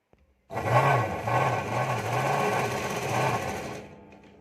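A sewing machine stitches a blouse sleeve seam. After a brief quiet start it gives a steady, close mechanical whir with regular rhythmic pulses, then slows and trails off near the end.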